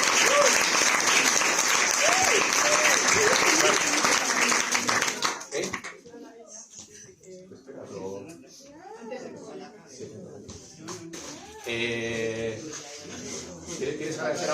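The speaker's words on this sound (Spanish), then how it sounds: "Quien quiera dar palmas, gritar." At a Spanish tribute event an audience breaks into loud, dense applause that lasts around five seconds, then dies away as voices talk over a quieter room with scattered claps.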